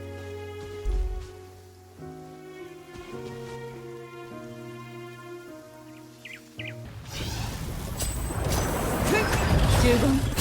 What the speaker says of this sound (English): It's a cozy raining scenery, like what Aurora said.